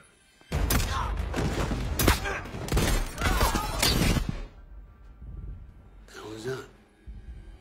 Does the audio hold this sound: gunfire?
yes